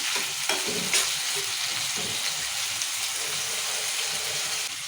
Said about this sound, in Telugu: ఇప్పుడు టమాటాలు వేసుకున్నాము టమాటాలు కూడా నూనెలు ఉడికించుకోవాలి